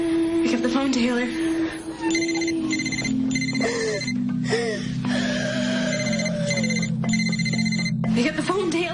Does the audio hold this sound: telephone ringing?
yes